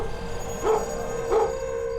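A dog gives two short barks about half a second apart, moderately close, over a steady background hum at a street scene beside a parked van.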